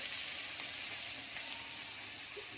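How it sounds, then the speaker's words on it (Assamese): Crushed garlic stirred into a singi fish curry frying in a pan, a dense, steady sizzle with occasional faint stirring scrapes, close and continuous without any voices. "পিচি থোৱা নহৰুখিনি আমি এতিয়া ইয়াত লৰাই দিলোঁ।"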